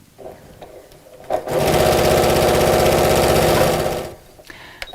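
A sewing machine stitches steadily along elastic for a car seat organiser, a loud continuous whirring run that starts abruptly, holds for under three seconds and then stops, with quiet handling before and after.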